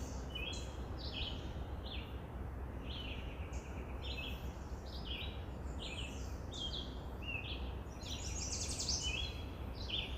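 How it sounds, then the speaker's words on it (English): Birdsong in Roth Park, Woodstock, Ontario: several small birds chirping and trilling in short repeated phrases, faint and somewhat distant over a steady outdoor background rumble. "So I just put some bird sound that I captured"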